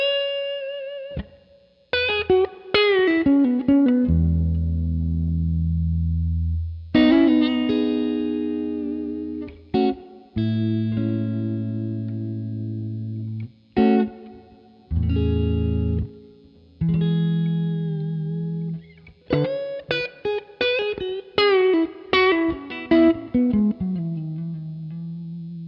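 An electric guitar runs through the John Mayer Archetype amp plugin with three amps blended at once, playing sustained chords and melodic runs with a warm, lightly driven tone and reverb, loud and continuous with no talk.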